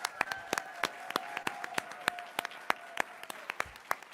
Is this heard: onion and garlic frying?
no